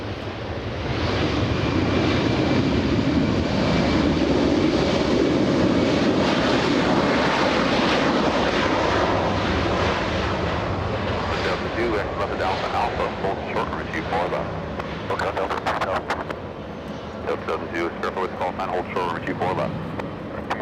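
A Delta airliner arriving from Denver comes in to land at LAX, a loud, steady jet engine roar sustained throughout and easing slightly toward the end, with a voice talking over it.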